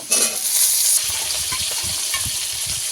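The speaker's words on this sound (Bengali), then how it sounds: "ছোটো করে কেটে রাখা টমেটো দিয়ে দেব" Chopped tomatoes drop into a hot pan for a spinach dish with a loud burst of sizzle that settles into steady close frying, with soft low stirring thumps underneath.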